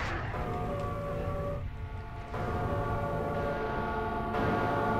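A train in Silent Hill 3 roars past continuously, a dense rumble with a droning horn-like tone that shifts partway through, loud and close throughout.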